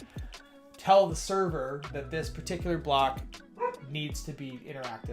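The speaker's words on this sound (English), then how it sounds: "my dog is so excited about this too. I don't know if you can hear him barking in the background there" A dog barks repeatedly in the background of a home workspace, sharp excited barks and yips scattered throughout while someone talks steadily over them.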